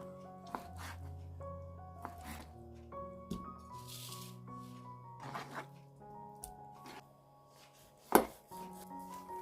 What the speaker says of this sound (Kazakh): Осылайша кубик тәріздес қып, төрт бұрышты қып бәрін қазір тураймыз.